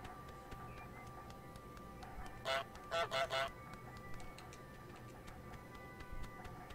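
Canada goose honks in Untitled Goose Game: a short burst of four nasal honks, the last three close together in a quick run, set over a steady low background hum.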